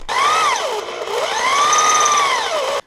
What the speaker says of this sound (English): So, got the trusty electric drill. I'm gonna give this a shot.